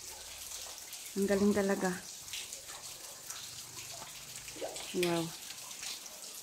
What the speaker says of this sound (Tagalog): May tubig pala doon oh. Mula sa itaas. May tubig.